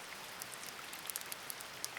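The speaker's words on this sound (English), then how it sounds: "It's barely even raining." Light rain falls steadily, a dense, even patter of fine drops with a few slightly sharper splashes, fairly close and with no voices.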